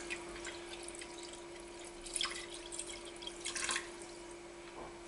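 Water poured into a cooking pot for a puchero or cocido with ribs, a soft continuous splashing trickle with occasional brighter bursts, fairly quiet and close, with a steady faint hum underneath and no talking.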